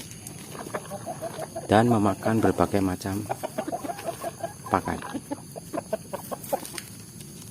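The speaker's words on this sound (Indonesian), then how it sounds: "Ayam kampung merupakan hewan liar yang dahulunya dijinakan dari jenis ayam hutan" Free-range village chickens cluck in a series of short, uneven calls, some louder bursts clustered together, with a voice talking alongside.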